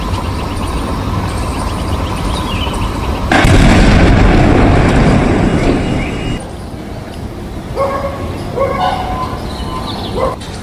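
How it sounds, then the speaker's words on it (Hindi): Bomb blast beside a CRPF school wall in a residential part of Rohini, Delhi: a sudden loud broadband burst about three seconds in, roaring for several seconds before fading into street noise with faint dog barking and voices. "धमाके की आवाज को सुनकर आप अंदाजा लगा सकते हैं कि इस बॉम्ब की इंटेंसिटी क्या थी"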